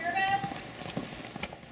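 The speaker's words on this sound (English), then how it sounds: "Rick Lehman herds his horses back from the pasture in St. Augustine." Horses herded back from a pasture on a St. Augustine ranch, hooves clip-clopping in an uneven, moderately close rhythm over a brief stretch, with a faint tonal whine early on and light background noise.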